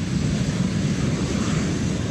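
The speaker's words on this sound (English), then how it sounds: "jet noise is the sound of freedom. It's quite true, actually. It's a rush of air." Continuous broadband rush of a jet aircraft in flight, a steady loud roar of air with no break and no voices.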